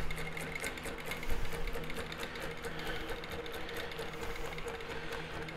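A longarm quilting machine hums and stitches continuously while basting a quilt in an all-over meander pattern, a steady moderately loud mechanical whir with a fast rhythmic needle patter.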